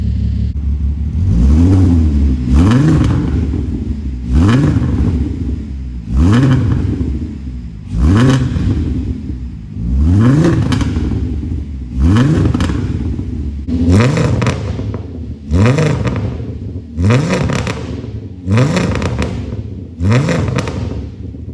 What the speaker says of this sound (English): It's straight piped all the way back, so I do want to get a muffler for it just to quiet it down a bit.